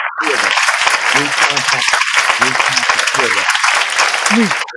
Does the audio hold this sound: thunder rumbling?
no